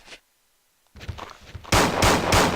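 Revolver shots in the video game Resident Evil 2, coming after a quiet gap and some softer clatter: about three loud, sharp blasts fire in quick succession at the end, close and dominant.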